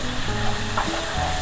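Masala chicken with garam masala and roasted jeera powder sizzles loudly in the pan as it is stirred, a continuous close frying hiss with faint scraping under it and no talking.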